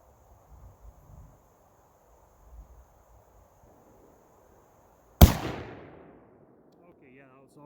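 A single sharp rifle shot from a Thompson Center Compass II .223 bolt-action rifle cracks loudly outdoors, followed by a long fading echo, after a few seconds of quiet with faint background rustle.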